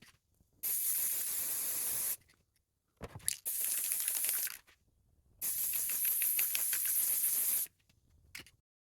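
A spray paint can puts blue paint onto a remote-control car body in three long steady hissing bursts, the middle one shorter and broken, with short pauses and a faint final puff. Close and loud, with no voices.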